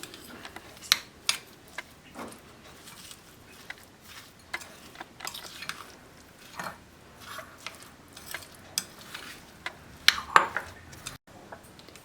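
Spoon scraping and clinking around a bowl while yogurt and paneer sandwich stuffing is mixed, a steady series of soft scrapes with sharper clinks, fairly quiet and close, with no talking.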